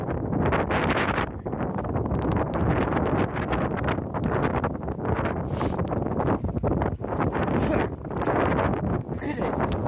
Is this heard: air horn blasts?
no